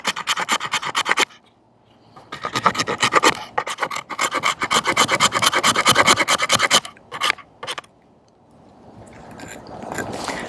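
Allegheny Knifeworks M40 knife spine scraping wet fatwood, loud close rasping strokes in rhythmic bursts with short pauses between them.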